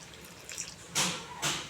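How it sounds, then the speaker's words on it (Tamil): Water splashes as it is poured into a bowl of wheat batter for sweet kuzhi paniyaram, two short close bursts after a faint trickle, with no one talking. "இப்போ நம்ம வந்து தண்ணி சேர்த்துக்கலாம்"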